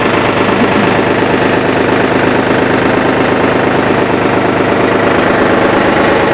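A 3-cylinder 2,931 cc tractor engine runs loud and close, a continuous rough rumble with steady knocking pulses as it drives toward a house, no voices.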